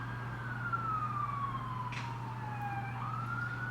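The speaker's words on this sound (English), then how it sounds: "The sirens." Emergency vehicle siren wailing outside at a distance, one long falling tone sliding down then rising again, faint over a steady low indoor hum.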